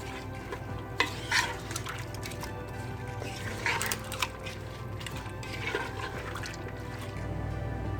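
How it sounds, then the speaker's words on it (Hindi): A spoon stirs a wet mixture of lentils, shami kabab spice mix and a cup of water in a cooking pot for chicken shami kabab, giving soft scraping and sloshing sounds with a few sharper knocks, moderately close. "इसको अच्छी तरह से मिक्स करें।"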